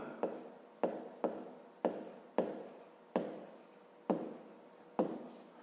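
Pen writing numbers and words by hand on paper for a fifth-grade maths exercise, close and quiet: a series of short scratchy strokes, each starting with a light tap, in an even, unhurried rhythm with no talking.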